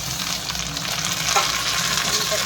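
Onions sizzle and fry steadily in a pan while chopped tomato goes in for Bengali-style ghugni, a continuous close hiss with a brief stirring clatter midway and no one speaking.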